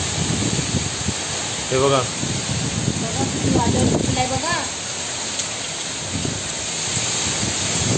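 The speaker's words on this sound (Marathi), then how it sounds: "किती वादळ आहे बघा." Heavy cyclonic rain and gusting wind in coastal Konkan, with a steady broadband roar of rain drumming on sheet-metal roofs throughout and people talking over it.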